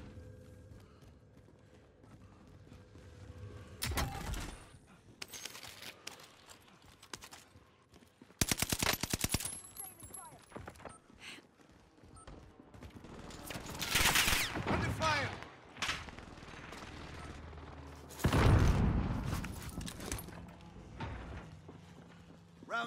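Bursts of incoming gunfire in a military shooter video game, several loud volleys and single shots scattered across the stretch with quieter game noise between them.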